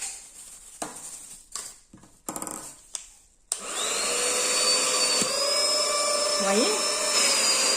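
A vacuum cleaner runs with a steady loud whine and a rising pitch shift as it sucks, starting abruptly after a few seconds of handling noises and a person speaking briefly in French.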